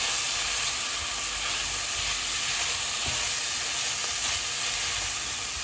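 Whole spices with cinnamon toast in a pot, giving a steady, close sizzle and soft frying hiss throughout, with faint stirring knocks and no voices.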